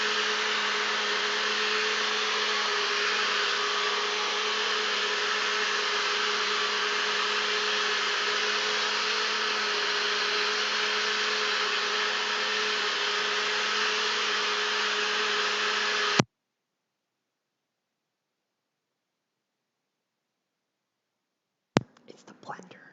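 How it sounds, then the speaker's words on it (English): A kitchen blender runs steadily for about sixteen seconds with a constant, loud whirring drone, then cuts off abruptly into silence, followed by a brief clatter near the end. "It's the blender."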